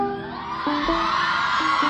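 A crowd at a live band concert at an engineering college screams and cheers loudly, a dense wash of voices rising and holding, with a few sustained individual shouts standing out.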